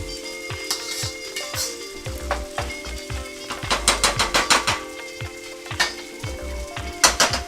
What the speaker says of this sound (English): all of the rice that's making contact with the bottom of the skillet right now is going to develop a nice sear to it